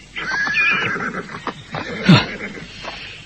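A horse whinnies loudly and close by as a man rides up, giving a shrill, wavering neigh followed by snorts and rough breathy bursts.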